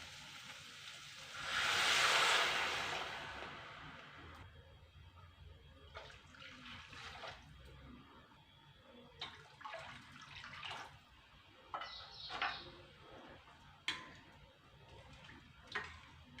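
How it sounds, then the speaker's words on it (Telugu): Water is poured into a pan of fried rava for masala upma: a short splashing pour near the start, then quieter scattered splashes and bubbling, all faint and close, with no talking. "ఆ కప్పుతో రెండున్నర కప్పులు వాటర్ తీసుకోవాలండి"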